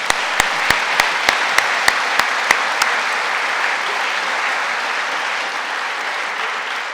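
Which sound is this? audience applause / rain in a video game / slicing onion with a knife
audience applause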